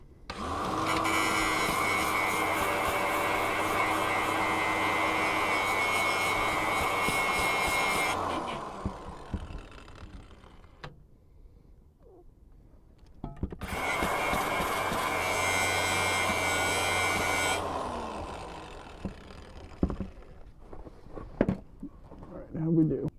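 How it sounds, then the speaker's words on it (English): A cut-off wheel grinding and cleaning up an exhaust bracket on a plumbing truck: two long, loud, sustained whining bursts with a pause between them, filled by faint clatter and handling noise. "All I have is a cut-off wheel, so we'll just clean it up with that real quick."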